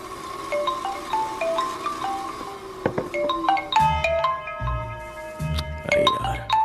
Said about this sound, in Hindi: ये अभी क्यों फोन लगा रहा है?